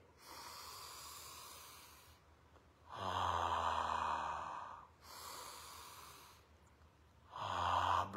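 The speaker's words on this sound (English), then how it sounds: "Breath, breathing through your nose, exhaling through your mouth." Deep breaths drawn in through the nose and let out through the mouth, two long loud rushing breaths with quieter gaps between, close and alone.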